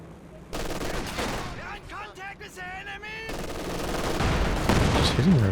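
Machine gun fire in a war video game, with bursts of broadband gunfire at the start and again near the end, and a commentator's voice talking over the gap between them.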